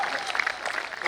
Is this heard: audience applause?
yes